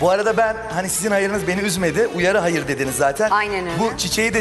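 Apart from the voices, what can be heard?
No distinct noise like a dog, phone or traffic.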